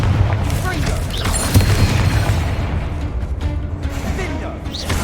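Fiery Confringo spell explosions in Hogwarts Legacy, a dense run of booming blasts and crackling bursts over steady low rumble, loud and close throughout.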